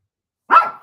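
A dog gives a single short, sharp bark close by, loud and alone after a moment of silence.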